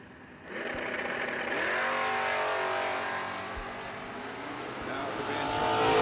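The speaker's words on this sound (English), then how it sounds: "Al Burke over there in the Mustang, dialed up a 654." Mustang drag racing car launching down the strip at a bracket race, its engine roaring up then fading into the distance, followed by another engine rising near the end, heard from trackside.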